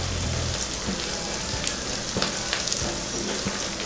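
Onions and tomatoes sautéing in a pan for a lentil dumpling gravy, a steady close sizzle and crackle with occasional light stirring taps, no voices.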